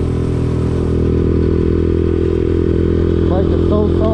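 A Honda Trail CT70 clone motorcycle with a new exhaust idles up close, a loud, steady, throbbing low putter that runs throughout, with a voice briefly audible over it near the end.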